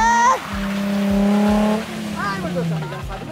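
A car drifts with the handbrake pulled, engine revving hard while the tires squeal in long sliding tones. The sound is loud and close, and people talk over it.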